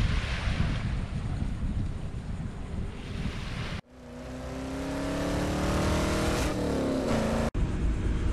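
Ocean waves rush at a Miami beach with a view of Fisher Island, a steady broadband wash with wind noise, broken by an abrupt cut and then a humming, droning tone before the surf returns.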